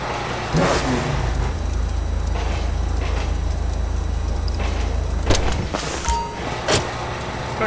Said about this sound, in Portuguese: É um mod ronco motor aspirado